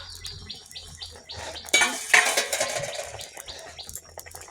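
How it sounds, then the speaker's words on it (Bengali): A metal lid lifts off a cooking pot with a sharp clatter and rattle, bursting up out of quieter kitchen sounds and fading into light clinks, close by. "ঢাকনাটা খুলবো"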